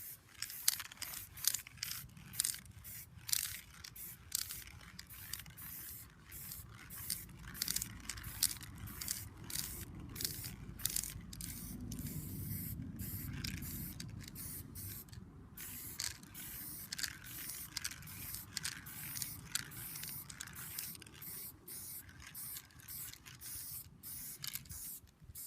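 Spray paint from aerosol cans is applied to wargame terrain pieces laid out on a board, heard as repeated close hissing bursts with rattling, clicking nozzle sounds between sprays.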